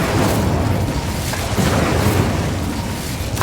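Incendio fire spell cast over and over in the video game Hogwarts Legacy: a steady roaring, booming burst of flame that fills the whole stretch loudly, with rumbling low end and no clear gaps.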